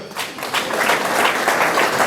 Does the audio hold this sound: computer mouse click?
no